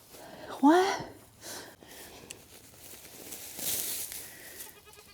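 A goat gives one loud, wavering bleat near the start, then quieter shuffling and background noise follow.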